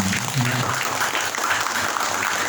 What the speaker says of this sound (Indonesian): Tepuk tangan demi buat kita semua.